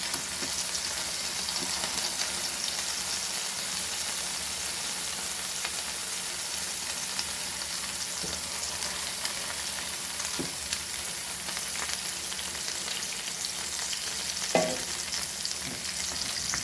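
Slices of egg-dipped French toast frying in a pan over a medium flame, a steady, even sizzle throughout with a few faint clicks and taps, and no talking.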